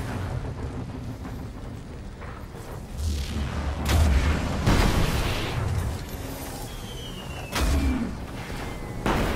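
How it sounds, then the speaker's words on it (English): Rocket stuck to a vehicle exploding in the video game Destiny, a series of deep booming blasts and rumbles over several seconds, loud and close, with gunfire-like cracks between them. "the rocket stuck to the vehicle and then exploded after the bodies fell"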